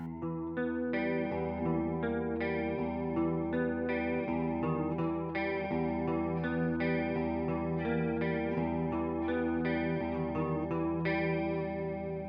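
A chorus-treated guitar plays a steady progression of chords, the tone lush and warbling, notes sustaining and overlapping without pause.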